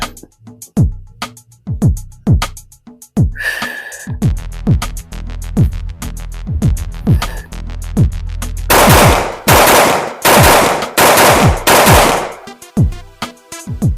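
Rapid pairs of loud, sharp pistol shots crack out close by in a steady rhythm, with a burst of quicker fire toward the end and brief pauses between strings.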